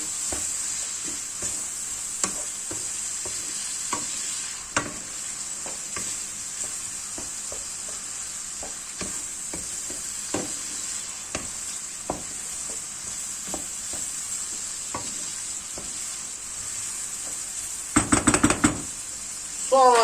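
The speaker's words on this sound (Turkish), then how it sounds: "Soğanlarımla kavrulmasını istiyorum." Onions sauté in a pan for a moussaka, a soft continuous sizzle under scattered knocks and scrapes of a utensil stirring, with a louder clatter near the end.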